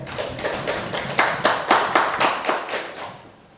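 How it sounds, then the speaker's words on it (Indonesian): A classroom audience claps for a group's presentation: brief, fairly close clapping from a small crowd, with an irregular rhythm that builds and then fades over a few seconds. "kita beri tepuk tangan untuk kelompok 1"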